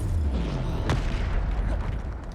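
A Bombarda explosion spell going off in Hogwarts Legacy: a single deep, booming blast with a sharp crack at its onset over a constant low rumble of game ambience, close and loud.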